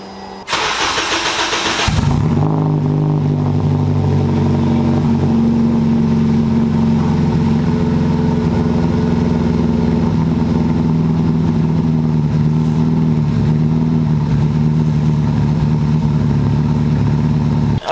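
A supercharged K-swapped Honda engine cranks and fires up, then settles into a loud, steady idle with strong low rumble and light revving, close and continuous with no talking.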